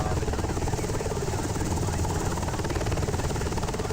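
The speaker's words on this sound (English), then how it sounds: "it's still a Black Hawk, but a Coast Guard Black Hawk" A Coast Guard Black Hawk helicopter flown in Microsoft Flight Simulator on PC, giving a steady, loud rotor and turbine drone that fills the whole stretch without letup.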